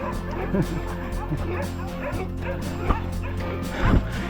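Large dogs barking, yipping and whimpering on a trail run route near Taif, several sharp barks at close range, with a person talking alongside them.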